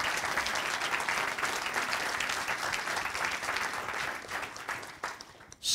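Sustained audience applause fills a seminar hall at a motivational session, steady and dense for several seconds before tapering off sharply at the end.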